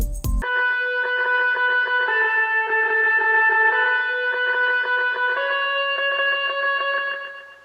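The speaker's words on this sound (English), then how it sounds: "one of the main parts of this song is the electric guitar, which has a bit of a delay on it" An electric guitar with a light delay plays a steady run of ringing notes, echoes trailing behind each one, close and even throughout, with no voices after a short blip at the start.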